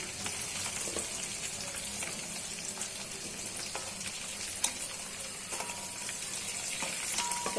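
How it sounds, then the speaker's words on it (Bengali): Chicken and peas frying in a pan for a spicy broiler chicken bhuna, a steady dense sizzle with crackling pops and a few clicks throughout, close and alone without talk. "এখন এগুলো দিয়ে দিই, এগুলো ভাজা হয়ে যায়।"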